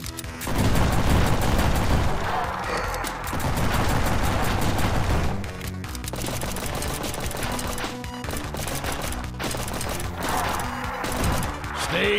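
Shotgun and other weapons firing in the Zomb Bomb video game, a steady barrage of loud overlapping blasts and booms with no pauses, mixed with game effects.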